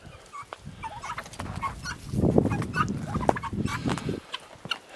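Chickens on a ranch cluck and murmur in a loose, continuous chatter close by while lying around in the dirt, with an occasional louder call standing out from the flock.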